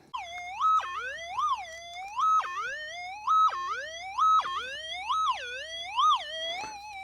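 A metal detector gives a loud, warbling electronic tone that sweeps up and down in repeated cycles as the coil passes over a target, probably an old square nail, in a hydro pit.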